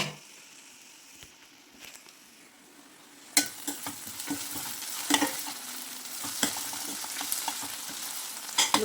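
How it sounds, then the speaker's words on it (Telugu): Onions fry in a pan for a spicy murrel-fish gravy, browning until reddish: a soft, steady sizzle for three seconds, then louder crackling with scraping stirs and spoon clatters, close by with no talk. "అలా ఆనియన్స్ వేసుకున్న తర్వాత కొంచెం బాగా ఎర్రగా వేయించుకోవాలి"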